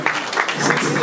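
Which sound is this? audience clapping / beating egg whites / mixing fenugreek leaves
audience clapping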